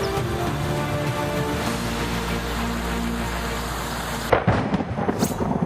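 Heavy rain and a thunderstorm over Yadgir district, Karnataka: a loud, steady downpour roars throughout, then sharp crackling thunder bursts break out close by near the end, with no voices.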